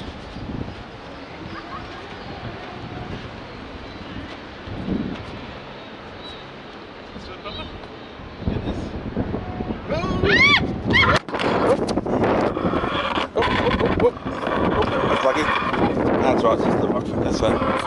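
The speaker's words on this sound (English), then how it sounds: "Strong wind." Strong wind buffets the microphone outdoors in Perth, Western Australia, a steady broadband roar that turns louder and gustier about halfway through, with faint other sounds mixed in.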